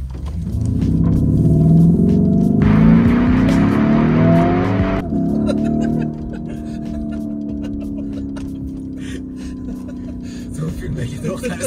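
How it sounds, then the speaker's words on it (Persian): An Italian Lamborghini engine revs loudly up close, rising and falling in pitch with a strong rumble and a burst of higher roar midway, as people talk over it inside the car. "یه ماشین ایتالیایی اصلا موزیک نمیخواد تو ماشین. آره موتورت موزیکه."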